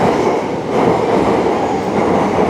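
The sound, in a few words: train at Shibuya metro station platforms, Tokyo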